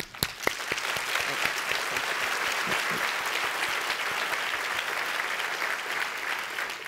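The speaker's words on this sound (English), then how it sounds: "I really think we should give another round of applause" Audience applause at a women's business forum, steady dense clapping from a sizeable crowd that starts with a few sharp claps and holds at an even level throughout.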